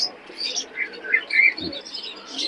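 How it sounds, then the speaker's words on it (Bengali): Mysore pigeons of an old lineage, among other birds at a busy pigeon market in Khulna, give soft low coos beneath scattered chirps and tweets, with faint background voices. "এই দুটো হলো মহীশূর পায়রা, অনেক পুরাতন জেনারেশনের মহীশূর পায়রা"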